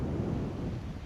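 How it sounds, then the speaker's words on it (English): Strong wind buffeting a shirt-clipped microphone fitted with a wind muff at a mountain overlook, a steady, low, rumbling roar with no talking. "It's real windy."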